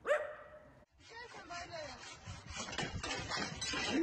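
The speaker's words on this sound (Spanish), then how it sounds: "¿Qué mierda hace el perro ahí?" A dog barks several times in a noisy room, the yaps scattered under overlapping talk and louder background chatter that builds toward the end.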